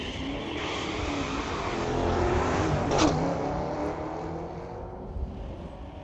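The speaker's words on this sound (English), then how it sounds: "Corvette taking on a very fast Mustang." A Corvette and a Mustang launch off the line at a street-legal drag strip, a loud broadband engine roar that swells and peaks mid-run before easing, heard from trackside without talk.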